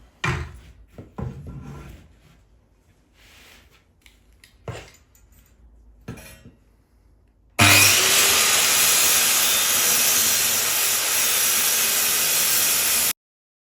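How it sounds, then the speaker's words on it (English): Circular saw cutting along a marked line on a wardrobe infill panel, a loud, steady high whine lasting about five seconds after a stretch of quiet tapping and handling. "So now I'm just going to cut along the line that I've marked."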